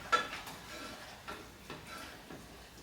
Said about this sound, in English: And stir it some more